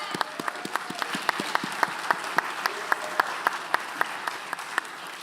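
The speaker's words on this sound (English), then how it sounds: "We should give her a big round of applause" Audience at a conference gathering applauding for Steffi, a thin, moderate crowd of distinct individual claps with a few sharp, loud hand claps standing out, steady throughout.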